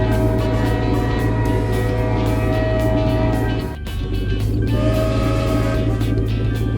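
A continuous rumbling cartoon train sound with steady tonal whine, briefly dipping midway before resuming loud and unbroken.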